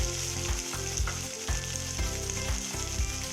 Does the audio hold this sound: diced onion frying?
yes